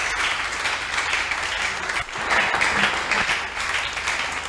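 A church congregation applauding together, a steady dense wash of clapping that swells slightly midway and continues throughout.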